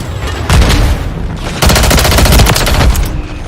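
A thermobaric grenade detonates in a video game, a loud booming blast in two heavy bursts, each followed by rumbling crackle, with no talk over it.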